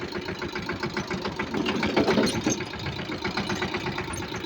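A tractor engine runs steadily on the drive home from a farm field, a loud, close, rough mechanical chugging that swells slightly around the middle and carries on without a break.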